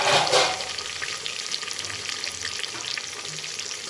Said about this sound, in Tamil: இப்போ நம்ம நல்லா கிண்டிக்கலாம்.